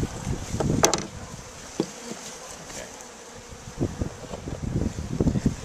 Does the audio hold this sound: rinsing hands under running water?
no